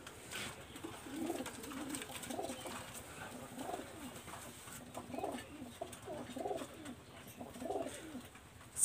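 Red-eyed pigeons coo softly nearby in a repeated low, rolling rhythm, several calls following one another at an even pace.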